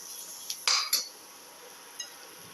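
A metal spoon scrapes and clinks against a casserole dish while chili powder is mixed in, a few sharp close taps and scrapes followed by quieter stirring and one light clink.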